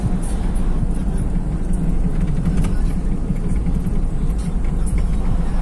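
A car driving through the streets of Monrovia, Liberia, giving a steady rumbling road and engine noise with a wash of surrounding city traffic, heard from inside the vehicle with no clear talk.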